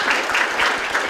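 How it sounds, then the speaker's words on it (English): Audience applause for the evening's presenters at the Ideafest 2017 visual storytelling session, a brief, even burst of many hands clapping at close, steady loudness. "can we give one round of applause for all the presenters tonight?"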